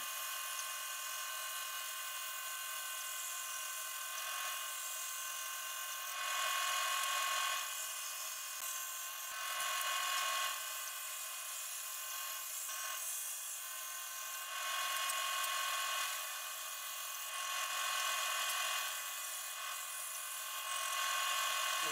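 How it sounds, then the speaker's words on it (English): A drill press cuts circles out of thin wood slices in a home workshop, giving a steady high-pitched whine that swells louder in several periodic surges as the cutter bites, with no talking. "the drill press for cutting out the circles"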